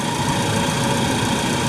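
A 2014 Ford Focus 2.0 engine running loud and steady after a water pump replacement, a dense constant mechanical drone that stays level throughout, heard alone.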